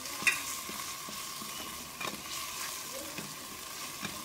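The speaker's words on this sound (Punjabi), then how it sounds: "ਹੁਣ ਇਹਦੇ ਵਿੱਚ ਨਮਕ ਮਿਰਚ ਅਤੇ ਹਲਦੀ ਪਾ ਦਾਂਗੇ। ਇਹਨੂੰ ਚੰਗੀ ਤਰ੍ਹਾਂ ਮਿਕਸ ਕਰ ਲਾਂਗੇ।" Masala frying in a pan with salt, chili and turmeric while it is stirred: a steady, even sizzle with a few soft scrapes and knocks from the spoon, close by and with no talking.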